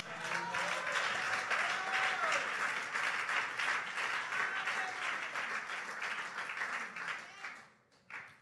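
Sustained applause from a church congregation, dense clapping mixed with cheers and voices, loud and continuous for several seconds before tapering off at the end.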